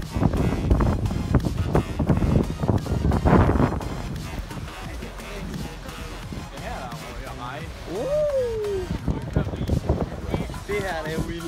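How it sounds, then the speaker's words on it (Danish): Gusty outdoor wind on Bornholm buffets the microphone with loud rumbling bursts, with people talking and calling out over it. "Det blæser her."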